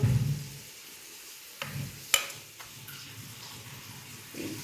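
Masala powder being stirred into mutton in a pan: soft, quiet scraping and faint sizzle, with a few brief, sharper strokes of the spoon against the pan.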